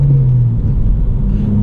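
A Honda Civic Si engine, tuned with a Hondata FlashPro, revs and then drops in RPM, a loud close rumbling drone that falls in pitch over under two seconds.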